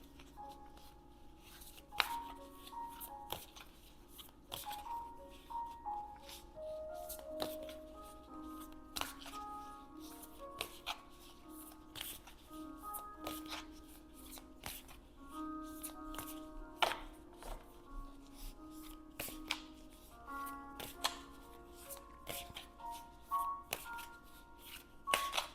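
A deck of oracle cards is shuffled over and over, giving close, quiet riffling and snapping bursts in an uneven rhythm against a faint background tone.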